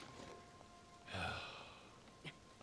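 Soft rain falls in the video game Tears of the Kingdom, a faint, steady patter with a brief swell in the middle, heard quietly.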